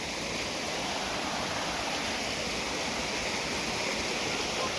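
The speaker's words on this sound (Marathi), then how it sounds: "काय वाजते रे बाळा काय वाजते रे पाणी किती मोठं पाणी रे" A large waterfall roars as a steady, loud, unbroken rush of water that fills the whole scene with no voices over it.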